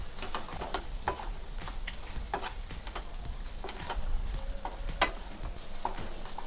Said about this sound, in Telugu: రైస్, ఎగ్స్ మొత్తం అన్నీ కలిసేటట్టు కలుపుకోవాలి.